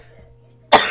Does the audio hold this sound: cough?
yes